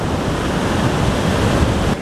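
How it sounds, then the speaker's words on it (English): Ocean waves breaking at a beach, a loud, continuous roar of surf filling the whole stretch with no voices over it. "Look at that wave."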